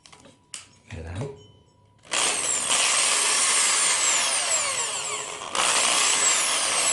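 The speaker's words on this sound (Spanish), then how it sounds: "procedemos a hacer las perforaciones con mucho cuidado, con la broca metálica" A power drill with a metal bit bores holes into a metal can for a homemade diddley bow, a brief clatter and handling knocks, then a sustained, loud high-pitched whine of the bit grinding through the tin, close up.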